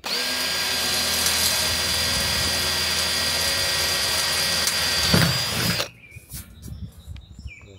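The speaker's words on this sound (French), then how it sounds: "Je vais d'abord faire des trous parce que c'est quand même assez épais comme métal." A power drill bores holes through the thick metal roof of a bus, a loud continuous whining grind that runs for about five seconds, then stops, leaving brief clatter and handling noises.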